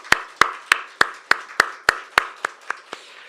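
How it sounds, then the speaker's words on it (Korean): A church congregation claps hands during a worship service: about ten sharp, evenly spaced claps in a steady rhythm, fading slightly toward the end, with no talking. "박수 한번 할까요?"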